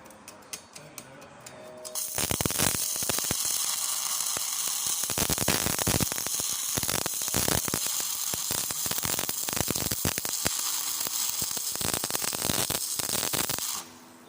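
Stick welding on thick 10mm steel plate with a Jasic welder: a loud, steady crackling and sizzling arc starts abruptly after a quiet moment and runs continuously for about twelve seconds before cutting off.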